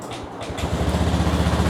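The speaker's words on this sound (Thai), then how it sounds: "เครื่องยนต์สตาร์ทติดทีเดียวง่ายๆแบบนี้เลยนะครับ" A Honda Scoopy i 2020 scooter's air-cooled engine sputters to life on the first try and settles into a fast, steady idle, close by and moderately loud.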